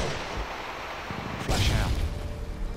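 A flashbang grenade thrown and bursting in a video game: a sudden loud blast with a bright ringing tail about halfway through, over a steady bed of in-game noise.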